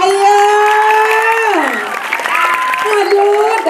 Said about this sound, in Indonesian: Para penonton, mohon tepuk tangan sekali lagi.